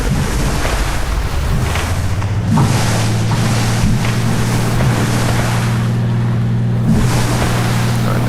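A seaplane in the FSX flight simulator taxis and settles on water, its engine holding a steady, close droning hum over a continuous rush of water and wind, with slight surges in intensity and no voices.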